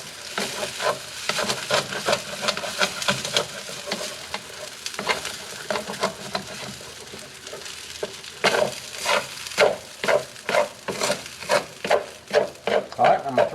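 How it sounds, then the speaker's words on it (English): Fried rice is stirred and tossed in a hot pan. A steady close sizzle runs under a quick, regular series of loud spatula scrapes that grow sharper and more rhythmic toward the end. "And I'll mix all that together."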